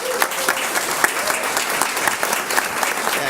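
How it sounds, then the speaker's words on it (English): An audience at a school board meeting claps steadily and fairly loudly for a few seconds, with dense applause and a faint crowd murmur beneath it. "Let's give them a round of applause."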